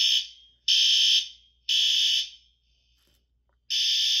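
Inside an inn building, a fire alarm shrills in loud, piercing electronic bursts. Four separate blasts sound, each lasting under a second, with gaps of near silence between them.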